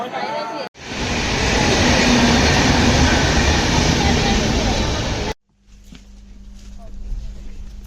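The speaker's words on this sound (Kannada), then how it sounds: "ಕುತ್ಕೊಂಡಿದ್ದೀವಿ ರೈಲ್ವೆ ಸ್ಟೇಷನಲ್ಲಿ" A train rumbles loudly close by for several seconds at a railway station near Mantralayam, a dense roar that suddenly cuts off, leaving a quieter murmur of station background noise.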